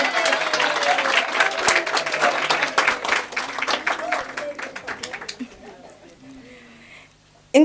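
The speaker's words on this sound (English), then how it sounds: "this deserves a big round of applause" An audience at a book launch breaks into applause, loud dense clapping that gradually thins and fades over several seconds, ending in near quiet with a brief bump at the very end.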